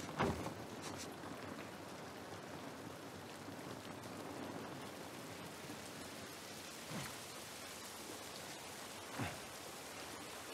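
Steady rain falls in a scene from The Last of Us Part I on PS5, a soft, even hiss of drops on surfaces at moderate distance, with a couple of faint thuds breaking through.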